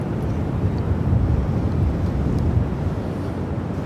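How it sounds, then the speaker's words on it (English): An American Airlines Boeing 787-8 Dreamliner arriving from Dallas Fort Worth rumbles low and distant at Phoenix Sky Harbor airport, a dull steady roar mixed with wind buffeting the microphone. "this American 787-8 Dreamliner coming in from Dallas Fort Worth"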